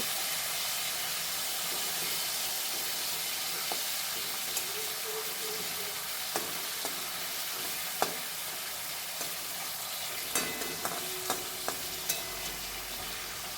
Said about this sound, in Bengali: এবার বাকি কাঁকরোলগুলো আমি এইভাবে ভেজে নেব।